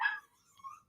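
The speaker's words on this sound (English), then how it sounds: "Please stop barking, Bells." A dog barks once, a short sharp yelp followed by a fainter whining tail, heard indoors at moderate distance with no talk over it.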